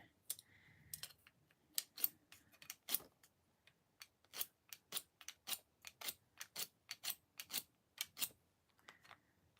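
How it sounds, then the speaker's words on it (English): Scissors drawn repeatedly through a small Fiskars sharpener with a sharpening stone, producing a steady series of crisp scraping clicks at an even rhythm, close and quiet against a near-silent background. "this is just a Fiskar scissor sharpener, and it just has a little sharpening stone"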